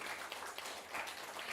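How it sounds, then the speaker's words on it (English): Faint audience applause greets a speaker at a project management webinar, a thin, steady wash of clapping lasting under two seconds with no voices over it. "A big round of applause for Mr. Kalyan Sunkari."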